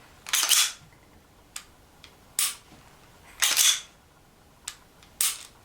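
Crisp dry-fire trigger clicks from a Smith & Wesson Performance Center M&P9 Spec Series pistol, five or six sharp snaps spread unevenly through a quiet room, each a short bright burst with a quick decay and nothing else around them.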